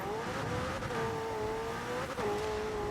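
McLaren car in the video game Forza spinning donuts, its engine holding a steady, sustained drone with slight pitch dips as it circles, loud and alone with no talk.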